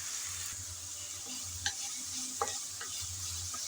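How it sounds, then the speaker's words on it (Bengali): Onions and prawns fried in a pan, a continuous soft sizzle with a spatula stirring and occasionally tapping the metal, close and quiet, no voices. "নেড়ে চেড়ে ভালোভাবে পেঁয়াজ আর চিংড়িটাকে ভেজে নিতে হবে।"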